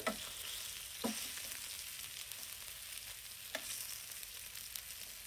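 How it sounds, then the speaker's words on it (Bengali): Chicken pieces frying in a pan for ramen give off a steady, fairly quiet sizzle. A few sharp clatters come through at about one-second intervals, sounding like the chicken being stirred or turned. "চিকেনটা একটু ছুঁয়ে গেলে তারপর ঘুরিয়ে দেব চিকেনটা মোটামুটি এইটটি পার্সেন্ট কুক করবো"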